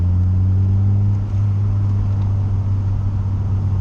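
A Ford Series 1 RS Turbo in third gear at about 40 mph coming down the revs, a steady loud low engine drone and rumble from inside the car with a brief dip partway through, no talk.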